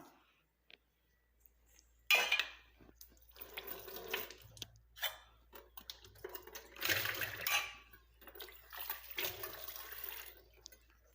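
Hibiscus leaves are rinsed in water, making close, quiet splashing and swishing bursts separated by short pauses, with no talking.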